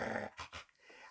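A dog sound effect in a children's story: a short, close growl followed by two quick breathy whimpers or huffs, fairly quiet, with no voice over it.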